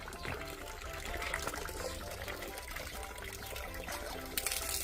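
Water runs steadily from a tap while freshly picked fruit is washed beneath it in a home garden setting, a continuous close trickle with faint clatter, no talking.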